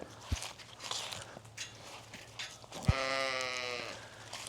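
A few soft footsteps scuff the ground before a sheep lets out a single long, wavering bleat close by, lasting well over a second.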